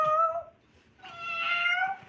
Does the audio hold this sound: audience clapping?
no